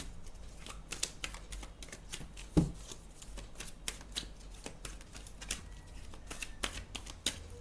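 Tarot cards being shuffled, a rapid run of crisp riffling flicks and soft slaps repeating steadily throughout, close and fairly quiet, with one sharper knock partway through.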